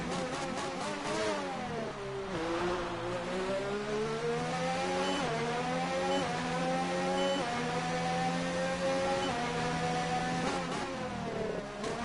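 A Renault Formula 1 car's engine howls steadily through a racing video game's Austrian Grand Prix, its pitch rising and falling through gear changes, loud and continuous with no talking.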